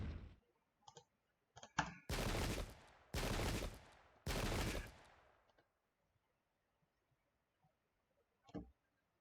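Cannon fire in the Pike and Shot video game, a few loud, broad blasts in quick succession with a couple of sharper cracks before them and a faint one after a quiet pause.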